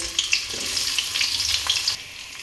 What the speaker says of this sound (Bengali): এবার এঁচড়টাকে ভেজে নেব অল্প করে তেলও দিয়ে দিয়েছি